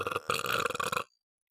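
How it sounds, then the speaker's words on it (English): A deep, brassy, bubbly burp after drinking Sprite, one long rumbling belch with a short break near its start, close and loud, then silence. "letting out deep, brassy, bubbly burps for you"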